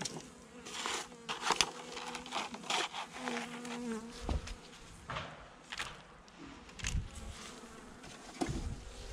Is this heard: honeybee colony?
yes